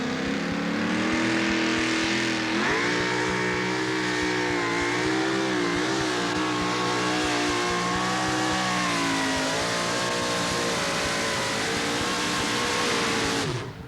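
A super modified two-wheel drive truck makes a pulling run at a truck and tractor pull at the Nashville, Tennessee state fairgrounds, its engine roaring loud and sustained with pitch wavering and climbing throughout the run.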